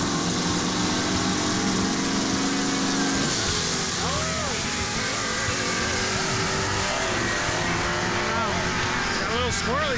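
A 1946 Chevy truck with a 509ci big block makes a drag racing pass, a loud sustained engine roar that fades as it pulls away, while a commentator talks and other engines whine in the background.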